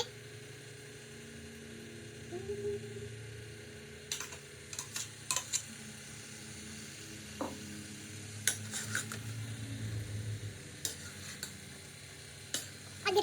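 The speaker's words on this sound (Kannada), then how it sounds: "ಇವಾಗ ಟೊಮೆಟೊ ಹಾಕೋತಾ ಇದ್ದೀನಿ" Tomatoes being added and stirred in a cooking pan, giving a soft, quiet sizzle with scattered light ticks and clinks of a utensil against the pan throughout.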